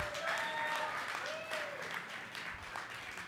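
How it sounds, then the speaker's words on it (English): Audience applause fills the room at an automotive assembly plant event, a steady wash of clapping under a voice speaking over it throughout. "Please be careful, all that applause will go to his head"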